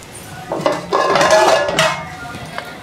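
A steel pot being readied for payasam clanks and clinks against other utensils in a few short, close metallic bursts.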